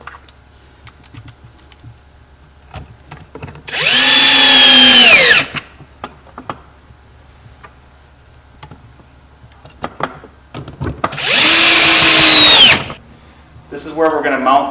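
A power drill drives screws through a hinge on a wooden trap, with two loud rising-then-falling whirring bursts of about two seconds each, separated by quiet handling clicks and a faint background hum.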